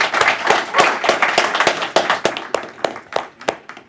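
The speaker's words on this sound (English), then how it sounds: "join me in one last round of applause for Jaime Torrealba." An audience at a JavaScript meetup in Glasgow applauding, dense loud clapping from many hands that gradually thins out toward the end.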